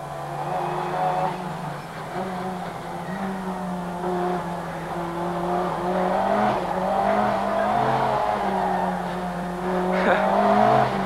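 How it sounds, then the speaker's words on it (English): A 500 horsepower car corners hard in a 1989 road test, its engine note rising and falling steadily throughout, with a sharper burst of power near the end. "Tending to understeer into the corners and then snapping to oversteer when the brute power of 500 horsepower is applied."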